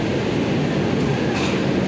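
The Sainagar Express at Howrah station gives off a steady rolling rail rumble with a broadband hiss, even and continuous for two seconds, no talk heard.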